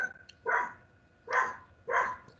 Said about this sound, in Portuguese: Eu estou ouvindo um cachorro, um latido.